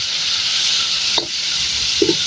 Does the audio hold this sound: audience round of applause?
no